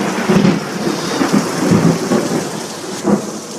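Extreme rain pours steadily in a dense hiss, with thunder rumbling low and heavy throughout in rolling swells, loud and close, no voices.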